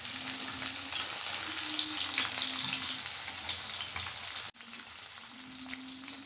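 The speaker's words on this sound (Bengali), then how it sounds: "আমার মাছগুলো প্রায় ভাজা হয়ে গেছে এপিট ওপিট করে।" Pieces of katla fish fry in hot oil in a pan, giving a steady, loud sizzle that runs throughout, with a brief drop partway through.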